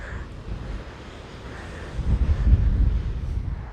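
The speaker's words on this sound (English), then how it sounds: "Still windy, still cloudy." Wind gusts buffet the microphone on an Outer Banks beach near the dunes, a low steady rumble that swells louder in the second half.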